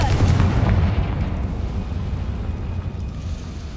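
A Confringo fire spell explodes in Hogwarts Legacy: a loud, sudden booming blast at the start that trails off into a long, rumbling decay, with no speech over it.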